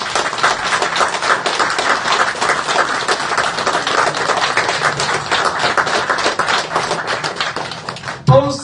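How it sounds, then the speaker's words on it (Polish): Rally audience applauding, a dense, fairly loud burst of many claps sustained across the stretch, with a sharp knock near the end. "Wielkie brawa."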